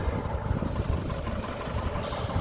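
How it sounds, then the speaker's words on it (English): Old vintage coach engine at a bus and coach show in Stroud, a steady low rumbling drone that holds at a constant level throughout, with no voices over it. "Starting up over there, the old coach."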